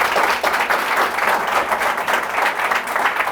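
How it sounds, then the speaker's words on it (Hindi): A classroom audience at a hair and makeup academy session in Mumbai claps loudly and steadily, a dense sustained wash of applause with no talking over it. "आप लोगों ने रेशमा के लिए जो इतनी जोर से तालियां बजाई हैं"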